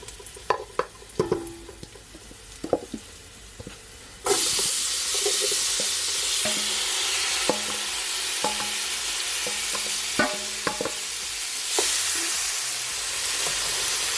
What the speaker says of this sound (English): I'm just gonna leave it to saute for at least 20 seconds